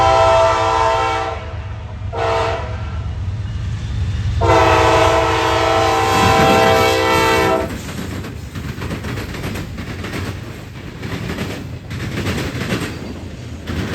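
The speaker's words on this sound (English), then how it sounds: "NS 9733 would lead this manifest headed westbound." Norfolk Southern locomotive 9733 leads a westbound manifest freight train at the rail crossing in Fostoria, Ohio. Two short blasts of a loud air horn are followed by a long one, then heavy rolling rumble and wheel noise as the cars pass.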